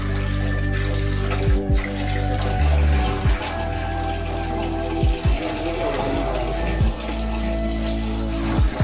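Steady, loud rush of water pouring continuously from a tap, with a few low thumps and faint voices in the background.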